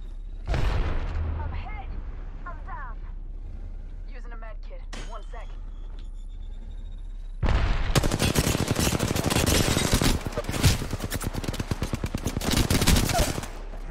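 Automatic gunfire in the video game Apex Legends breaks out as sustained loud rapid bursts in the second half, after quieter game sounds and speech at the start.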